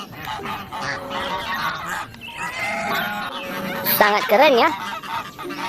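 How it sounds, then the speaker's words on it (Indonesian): A goose honks several times at close range, with harsh, wavering calls growing louder toward the end, while people talk excitedly over and between the honks. "Wow, ini angsa."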